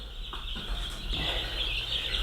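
Young chickens in a brooder give soft, brief chirps and clucks over a constant hum, faint and close.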